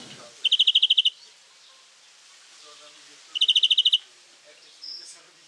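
A week-old pet bird gives two quick bursts of high, rapid chirps, each a tight run of about eight notes, close and clear, with quiet pauses between them and one fainter call at the end.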